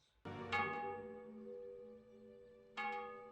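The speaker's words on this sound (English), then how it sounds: "The bell." A church bell strikes twice, each rich, ringing tone swelling and lingering as it slowly decays, with no voices.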